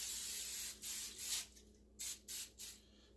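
Several short, hissing spray bursts of liquid onto meat in a quiet room, the first three close together, then three more after a brief pause.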